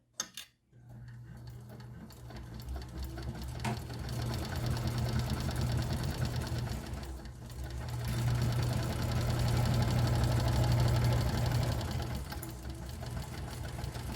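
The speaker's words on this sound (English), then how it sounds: "We're gonna sew down all 3 sides at a 1/2 inch seam allowance" A sewing machine stitches down the three sides of a messenger bag with a half-inch seam allowance, running in a steady rapid rhythm that dips briefly partway through and then picks up again, fairly faint and with no voices.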